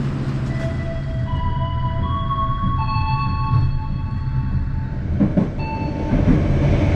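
Bengawan passenger train running straight through Cirebon station, a loud steady rumble of rolling wagons with sustained whining, squealing tones from wheels and rails and occasional clattering knocks, close by throughout.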